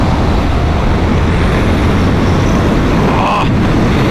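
A used Honda VFR1200F motorcycle with 173 hp engine accelerates on the road, its drone buried under loud, constant wind roar from riding at speed.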